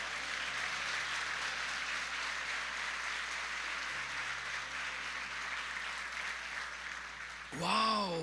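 Church congregation at a worship service applauding steadily for several seconds, a dense wash of clapping with low background hum, ending with a brief louder burst.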